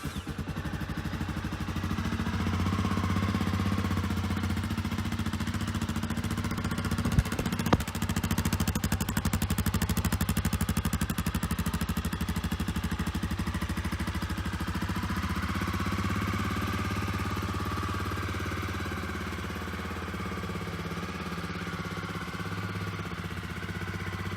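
A Honda CRF250F dirt bike engine cranks on the electric starter and then settles into a steady, even idle, close and continuous for a long stretch with no talk over it.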